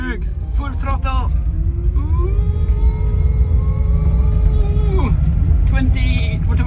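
Electric motor revved to full throttle on a test rig, giving a steady rising whine with harmonic tones that climbs and holds for several seconds, then drops away, with excited voices talking before and after.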